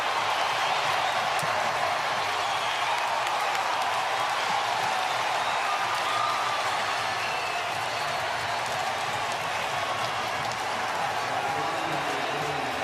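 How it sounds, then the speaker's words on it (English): Baseball stadium crowd at the College World Series in Omaha cheering after an RBI hit in a 2-1 game, a loud continuous roar of voices and clapping sustained throughout. "listen to the crowd in a 2-1 game"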